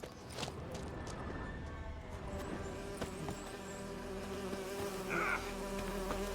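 Bees buzz steadily around a griffin's nest in The Witcher 3, a continuous insect drone layered over game ambience and soft music, with no one speaking.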